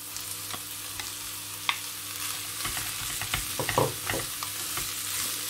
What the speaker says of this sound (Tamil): கேரட்டை சேர்த்து நன்றாக மிக்ஸ் பண்ணி விடுங்க.